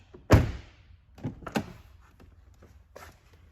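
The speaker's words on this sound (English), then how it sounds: "we're gonna go ahead and close and open the door just to light up the dash" A Cadillac CTS car door shuts with a heavy thunk, then several softer thumps and latch clicks follow as it is opened again, near and otherwise quiet.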